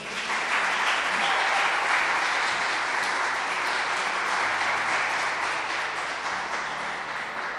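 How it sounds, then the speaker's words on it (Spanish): A church congregation bursts into steady, full applause for the Lord, a dense continuous wash of many hands clapping that holds loud for several seconds with no talk over it. "Bríndale un aplauso al Señor."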